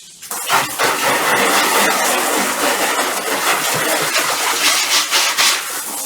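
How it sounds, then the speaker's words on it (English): A car being rinsed with a water spray before snow foam, a steady loud hissing rush that runs unbroken through the whole stretch with no talk. "So first step is to rinse."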